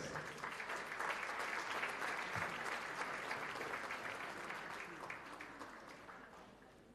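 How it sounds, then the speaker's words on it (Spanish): A university anniversary ceremony audience claps for honor roll economics students, a quiet, distant but sustained wash of applause that slowly tapers off toward the end. "el aplauso, por favor, para ellos"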